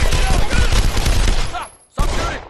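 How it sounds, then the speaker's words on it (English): Rapid bursts of gunfire, a loud continuous fusillade of overlapping shots that drops out briefly near the end, then resumes for a final burst. "Stop shooting! Shots fired"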